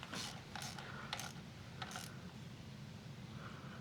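A ratchet tightening a bolt on a Honda Monkey motorcycle shifter: a few short, quiet clicking bursts close by, over low background noise, with no talking.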